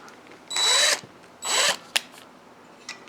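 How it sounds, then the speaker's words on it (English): A small impact wrench loosening bolts on a Suzuki RM400 motorcycle fires in two short whirring bursts, followed by a couple of sharp metallic clicks and taps. "Get my ratchet or my little impact"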